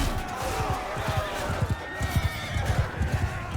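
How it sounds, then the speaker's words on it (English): A horse neighs and whinnies over a run of clip-clopping hooves in Mount & Blade II Bannerlord, with the hoofbeats thudding rhythmically and loud throughout. "All right, horse, get over here."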